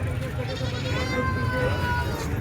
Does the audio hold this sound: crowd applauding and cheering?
no